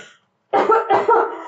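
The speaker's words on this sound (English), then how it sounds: "She laughs, which devolves into a huge coughing fit." A woman coughs hard in a rapid fit, two harsh clustered bursts after a brief pause, loud and close.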